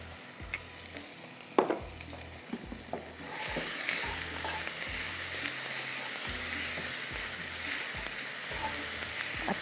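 Tomato paste dropped into a gravy masala sizzles and fries in a pan, a steady close hiss that swells louder after a few seconds, with scraping stirs and light taps of a spoon.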